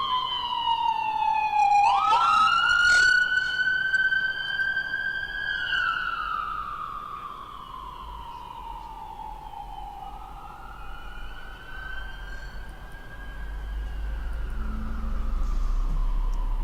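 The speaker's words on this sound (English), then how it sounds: "That's just a on-the-ground emergency vehicle siren." An on-the-ground emergency vehicle siren wails in long, rising and falling sweeps, loud and close at first, then easing slightly as it continues over a steady background rumble.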